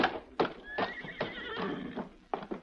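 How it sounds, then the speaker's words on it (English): A white horse stands near a hitch rail and gives one long, loud neigh that rises and wavers through its middle, with a short snort before it and clip-clop hoof sounds around it. "There is a white horse standing near the hitch rail."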